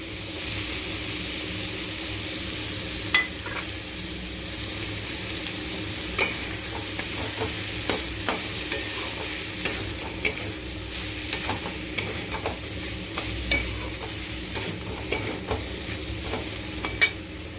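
Mini soya chunks fry in a pan for soya fried rice, giving a steady close sizzle with scattered sharp crackles and the occasional scrape of stirring.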